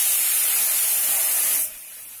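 Cooked mung and masoor dal is strained, giving a loud, steady hiss of pouring liquid that drops abruptly to a softer hiss near the end.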